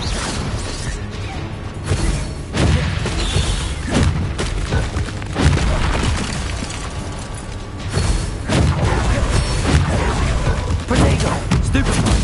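Confringo fire spells in Hogwarts Legacy detonate as a series of loud, heavy booms with crashing impacts and whooshes, several blasts spaced a few seconds apart amid combat noise.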